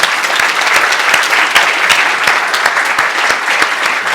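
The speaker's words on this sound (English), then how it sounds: "ask you to clap once again and say thank you to Martin for a fantastic talk" An audience applauds at the end of a talk about Antarctica, with steady, close, dense clapping that continues throughout without pause.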